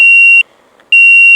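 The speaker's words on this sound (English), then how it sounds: "Every time I set the controller off, this thing starts beeping." A QwinOut FPV racing quad beeping when its controller is switched off, two loud, piercing electronic tones, each about half a second long, separated by a short silence.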